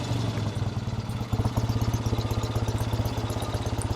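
A classic Triumph TR6R 650cc motorcycle engine idles close by after being coaxed back to life, a steady loud lumpy thumping that picks up a firmer beat partway through, with no voices.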